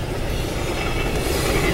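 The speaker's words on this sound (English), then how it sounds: "He is flying 65 miles an hour." A fast train speeding past at about 65 miles an hour in the snow, close and loud, with a heavy continuous rumble, rail clatter and a faint wheel squeal.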